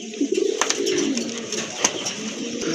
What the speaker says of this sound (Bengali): এটা হচ্ছে ঝর্ণা শাটিন কবুতর